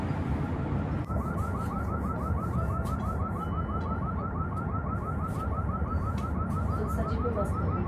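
A fire alarm rings in a nearby house, heard from a distance: a rapid, steady series of repeating electronic beeps starts about a second in and continues unbroken over constant background noise.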